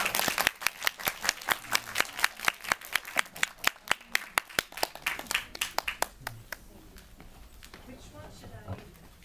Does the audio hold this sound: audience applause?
yes